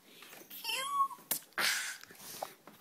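A kitten indoors gives a short rising meow, and a noisy rush and rustling clatter follow.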